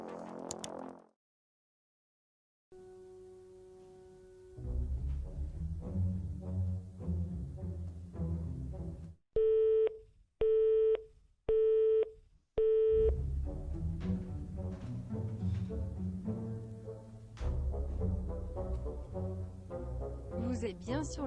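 A phone call being placed gives a ringback tone: four evenly spaced beeps, each about half a second long, stand out clearly between stretches of background music and talk.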